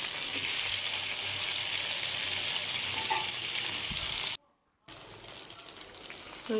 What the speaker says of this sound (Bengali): এবার অন্য পাশে ভালো করে ভেজে নেব